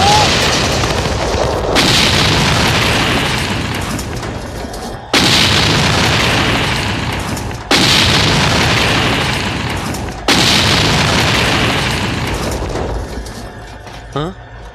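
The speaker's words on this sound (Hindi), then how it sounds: "अरे ये क्या, हमारी ही गाड़ियाँ उड़ गई?" Vehicles blow up in an action-film explosion sequence: four massive booms strike a few seconds apart, and each rolling blast slowly decays before the next.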